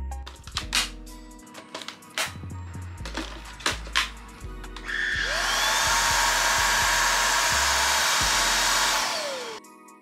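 A new household vacuum cleaner is handled with several sharp knocks and clatters, then switches on with a loud, steady whirring roar that runs for about four seconds before winding down.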